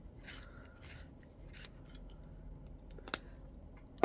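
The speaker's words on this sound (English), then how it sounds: "This is the blush pink. You just sharpen it a little bit." Blush pink colored pencil being sharpened briefly, with a few soft, close grinding and scraping bursts, then a quick click near the end.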